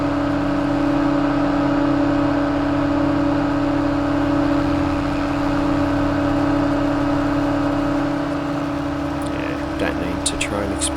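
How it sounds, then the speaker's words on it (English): A rough, steady old tractor engine drone in a farming video game runs throughout, loud and close, with a few faint clicks near the end. "It's a noisy old tractor though."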